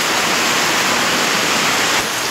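A torrential downpour in the rural province makes a thick, constant rushing roar, loud and near, easing very slightly at the end.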